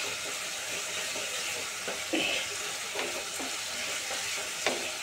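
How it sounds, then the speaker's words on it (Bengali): Chili powder and spices sauté in hot oil for a potato and pointed gourd curry, giving a steady close sizzle with occasional stirring scrapes of a spoon in the pan, and no talking. "লঙ্কা গুঁড়োটা কষিয়ে নিয়ে তেল আর মশলা আলাদা আলাদা হয়ে গেলে বুঝতে হবে মশলাটা কষানো হয়ে গেছে"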